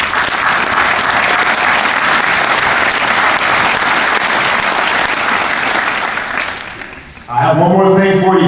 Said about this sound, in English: So I'm going to give the family members a round of applause.